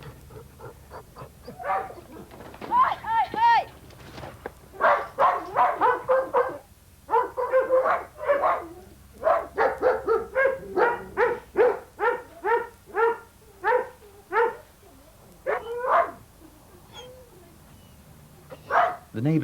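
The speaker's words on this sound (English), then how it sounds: "The neighbour's dogs may have turned into a pack" A pack of neighbourhood dogs barks repeatedly in an outdoor garden setting, loud rhythmic volleys with brief pauses and some yipping and whimpering mixed in.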